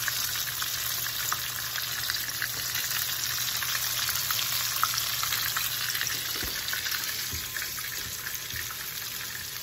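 Chicken strips fry and brown in a hot pan, giving a steady, close, dense sizzle with faint crackles throughout and no talking.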